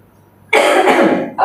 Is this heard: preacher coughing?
yes